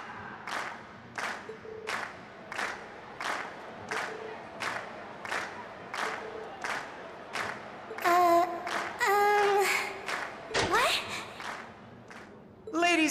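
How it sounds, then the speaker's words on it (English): A crowd at an academy festival in Trails of Cold Steel cheers and claps after a performance, giving repeated rhythmic shouts of encouragement that build into louder excited cheering near the end. "we've heard your cheers loud and clear"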